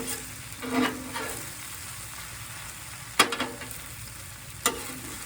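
Chicken teriyaki stir-fry sizzles steadily on a hot flat iron while a spatula mixes it, with a few sharp metallic scrapes and clanks breaking through the constant frying hiss.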